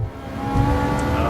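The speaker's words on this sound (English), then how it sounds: "I, added that engine sound," A Gran Turismo 7 car engine drones steadily and fairly loudly, rising slightly in intensity partway through, with no speech over it.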